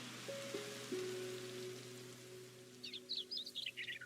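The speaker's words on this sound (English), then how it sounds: "Ooh, bird sounds." Birds chirp and trill in the world ambience of the game Hytale, a quick run of bright, fairly close calls arriving after a few seconds over soft rain-like hiss and low steady tones.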